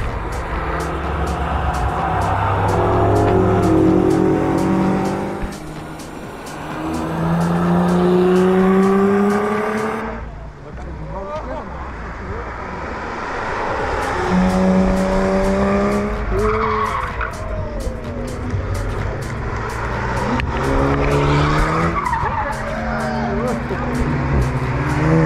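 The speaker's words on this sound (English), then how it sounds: "After watching a procession of cars go by" A procession of race cars sweeps past the Adenauer Forst section of the track, with rising and falling engine notes, one pass after another, tyres squealing through the corner, and talk over parts of it.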